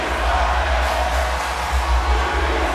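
A wrestling arena crowd in WWE 2K23 roars and chants as a steady, dense wall of noise with no breaks, filling the whole stretch at an even loudness.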